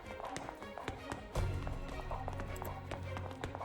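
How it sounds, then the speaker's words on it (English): Quick running footsteps in the Witch on the Holy Night video game, a fast patter of steps with a heavier thud partway through, fairly quiet and alone. "He threw everything into his legs as he sprinted."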